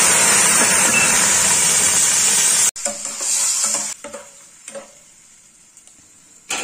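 Ground paste of tomato, green chilli and ginger hits a hot pan for a cauliflower egg curry, a loud burst of sizzling that cuts off, then quieter stirring and scraping with intermittent spurts.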